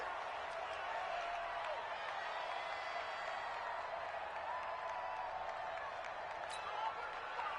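Steady crowd noise from a football stadium crowd in a Ravens vs. Cowboys video game, a constant wash of cheering and scattered claps heard at moderate distance with no talk, building ahead of a big third down.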